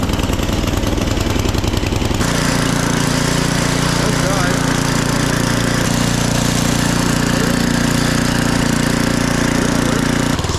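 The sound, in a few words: free snowblower engine running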